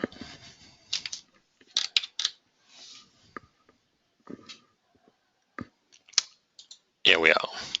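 Mouse clicks from right-clicking an entity in DIANA finite-element software while modelling a reinforced concrete beam, sharp single and paired clicks scattered across the clip, close and clear, interleaved with a man's speech.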